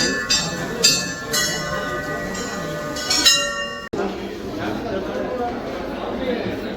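Metal bells clang repeatedly at a busy Hindu temple in Abu Dhabi, with bright, ringing strikes that fade into a steady murmur of crowd chatter and voices.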